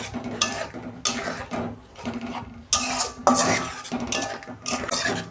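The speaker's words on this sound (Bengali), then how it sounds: "আমি চিংড়ি মাছ আর আলু একসঙ্গে দিয়ে দিচ্ছি" Prawns and potato pieces go into a simmering spiced masala, with a metal spoon scraping and clattering against the pot in loud, irregular bursts and short pauses between strokes.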